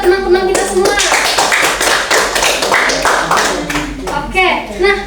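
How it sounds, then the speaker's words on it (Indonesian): Classmates applaud in a school classroom during a middle-school math lesson, a dense burst of clapping lasting several seconds. A teacher's voice and children's voices sound over and around the applause. "Beri aplaus buat teman-teman kita semua"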